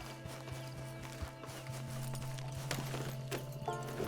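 Hooves of a scrawny horse in Red Dead Online clip-clop in a quiet, uneven rhythm over a faint background hum, the steps soft and moderately close with no talking.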